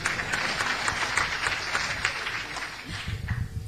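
Audience applauding at a Kamal Haasan event, a dense, steady wash of clapping that continues throughout, with a voice coming in near the end.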